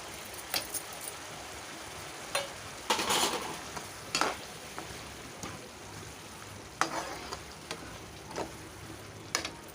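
Curd and cashew paste frying in a pan, a low steady sizzle broken by intermittent scrapes and clinks of a spoon stirring against the pan.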